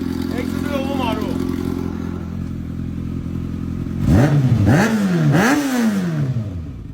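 A warmed-up motorcycle fitted with an Arrow exhaust idles steadily, then revs hard three times in quick succession, each rise and fall loud and close, with a rumbling idle between the blips.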